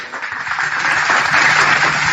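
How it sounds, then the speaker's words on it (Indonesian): An audience bursts into applause, a dense, steady wash of clapping that builds slightly and continues for about two seconds. "Tepuk tangan dulu teman-teman, dengarkan baik-baik."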